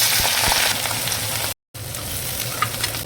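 Green chillies fry in a generous amount of hot oil in a wok, giving a loud, steady sizzle with crackling spatters that cuts out briefly before resuming. No one speaks.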